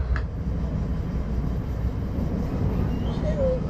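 A steady low rumble of a commuter train from Long Island toward Newark Airport rolling along rails, continuous and enveloping, with a faint thin squeal rising near the end.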